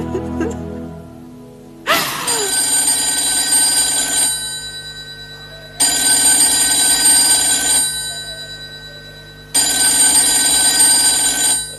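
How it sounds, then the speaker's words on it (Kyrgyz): Old-style telephone bell ringing indoors in three long, loud bursts separated by short pauses, sharp and metallic, close by, with no talk during the rings. "Телефон чырылдап жатат."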